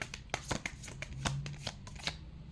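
Tarot cards shuffle and riffle with quick, soft flicks and taps, close and fairly quiet, in a short burst of irregular rustling with no talk.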